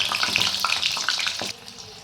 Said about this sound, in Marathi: मीडियम गॅसवरती आपण हे भजे आपल्याला तळून घ्यायचे आहेत